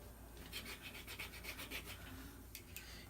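An airsoft G&P gas M16A4 firing pin filed by hand in slow, careful strokes, a soft rhythmic rasping heard close and quiet, with no talking.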